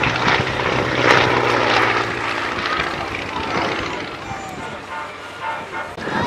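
A vintage propeller aircraft drones past at an Old Warden air display, loud and sustained as it passes close by. Its engine tone fades slightly toward the end, and a voice talks over it throughout.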